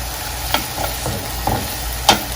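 Shrimp scampi sizzles in a frying pan, a continuous close hiss punctuated by a few soft scrapes and taps as the shrimp are turned, one sharper clink near the end; no speech.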